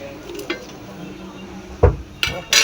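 Fried rohu fish is turned into masala in a pan, with a few distinct metallic scrapes and clinks of the spatula over a faint background sizzle.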